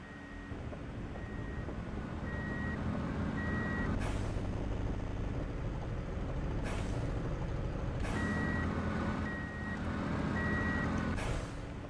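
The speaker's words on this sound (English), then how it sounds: "Big articulated lorry." An articulated lorry in a video game reverses with steady intermittent beeps over a constant low engine rumble, with loud hissing air-brake bursts breaking in at intervals.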